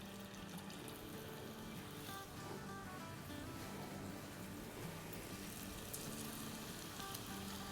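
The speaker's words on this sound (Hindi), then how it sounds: "और अब इसको हम तेल में डालते जाएंगे इस तरह से।" Samosas sizzling in hot oil as they are slid in one by one for an aloo samosa recipe, a steady dense crackle and bubbling hiss running throughout at moderate level with no talk.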